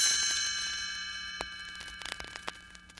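A ringing page-turn chime in a read-along book recording: a bright, sustained bell tone decays slowly across the clip, with a few soft ticks and clinks near the end.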